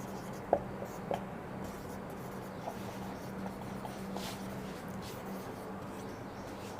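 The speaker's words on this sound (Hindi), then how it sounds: "जैसे मैं लिखता हूं कि रोहित शर्मा" Marker or chalk scratches and taps on a board in a classroom lesson, faint and close, in short irregular strokes over a low steady hum, with no one speaking.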